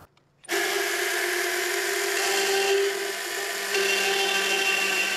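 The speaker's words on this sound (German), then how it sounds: "Mit dem Kettenstemmer geht das ziemlich schnell, einfach und millimetergenau." A chain mortiser starts up abruptly and cuts steadily into a roof timber, giving a loud continuous whining buzz with a chattering edge that shifts slightly as it bores through the wood.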